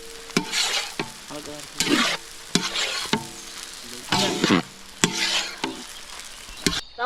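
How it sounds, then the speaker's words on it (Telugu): Schezwan chicken fried rice being stirred in a pan: repeated scraping and tossing strokes at an irregular rhythm over a steady sizzle, close and fairly loud, with no talk. "ఈ విధంగా కలుపుకోవాలి, అడుగు పట్టకుండా"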